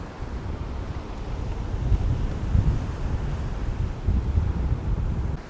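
Strong, gusty wind buffets the microphone on a beach at sunrise, with a constant low roar of breaking ocean surf beneath it and no voices.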